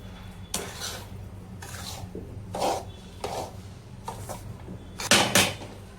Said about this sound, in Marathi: मंद आचेवर आपल्याला हा रवा वीस ते पंचवीस मिनिट चांगला भाजून घ्यायचा आहे